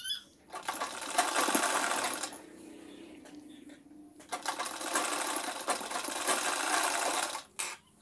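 Close sewing machine stitching a six-panel saree petticoat, running in two long, loud, steady whirring stretches separated by a quieter pause, then a brief final burst.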